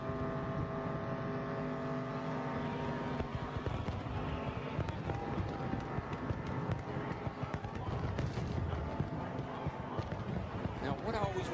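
Jeff Gordon's race car doing a celebratory tire burnout at Daytona after the 2004 Pepsi 400, a constant roaring engine and tire noise mixed with crowd, beneath an announcer talking throughout.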